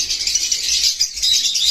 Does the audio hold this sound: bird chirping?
yes